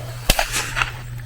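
A single sharp shotgun blast at a retriever hunt test, fired at a thrown bird outdoors, a fairly near crack with a short tail of echo and faint field noise behind it.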